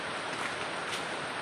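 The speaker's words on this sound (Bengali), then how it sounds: "বৃষ্টি তো কমার বদলে আরও জোরে আর কি এখন পড়তে শুরু করেছে" Heavy rain pours down in a dense, even wash of noise, close and loud, with no voices over it.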